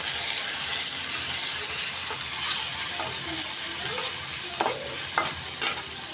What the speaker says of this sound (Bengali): গুঁড়া চিংড়ি দিয়ে দিতেছি, এখন ভাজিটা বসাই নিতেছি আগে।